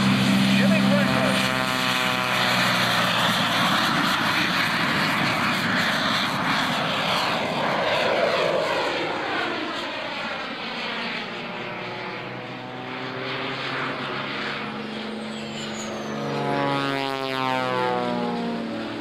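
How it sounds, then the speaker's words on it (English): A propeller airplane at the 2004 Sussex Airshow lines up for the runway, its engine droning loudly and steadily throughout while an announcer talks over it. "airplane as he lines up for the runway"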